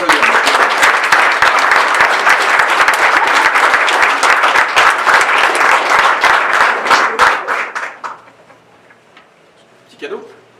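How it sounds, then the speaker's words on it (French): Applause and clapping from colleagues at a retirement send-off for a long-serving store employee, a dense sustained round of claps that thins out and stops after about eight seconds, followed by a brief faint voice. "On peut l'applaudir."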